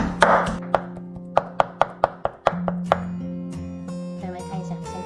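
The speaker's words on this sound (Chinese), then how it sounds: "把洗好的虾仁用刀背给它剁成虾滑" Peeled shrimp being chopped into paste with the back of a kitchen knife on a board, a run of sharp, evenly spaced thuds close up, speeding into a quick burst before trailing off.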